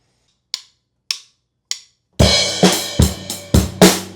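A drum kit plays a song's beat: four sharp stick clicks count in, then a steady groove of bass drum and snare hits, loud and close with no talking.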